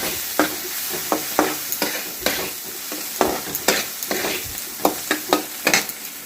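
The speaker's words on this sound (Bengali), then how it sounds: "এই যে আমার এটা মশলাটা ভালো করে কষা হয়ে গেছে" Spice paste being stir-fried in a pan for a rohu fish dish, a continuous sizzle punctuated by a dozen or so sharp, irregular scraping strokes of a spatula, close and fairly loud, with no voices.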